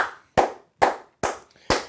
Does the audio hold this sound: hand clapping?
yes